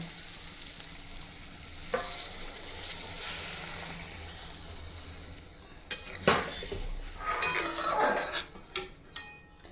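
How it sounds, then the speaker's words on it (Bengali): A little hot water goes into a pan of pointed gourd cooked with mustard and poppy seed spices. It raises a sharp hiss and bubbling sizzle over a steady frying background, with a few clinks of utensils. "মশলার সাথে পটলটা ভালো করে মিশিয়ে নিয়েছি। এবার আমি গরম জল সামান্য দিয়ে দেবো।"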